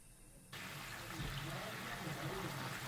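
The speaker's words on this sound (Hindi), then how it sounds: "पानी हमारे में उबाल आ चुका है" Water in a cooking pot for beef kofta curry, a steady bubbling hiss that starts abruptly after a quiet half second and continues close and even.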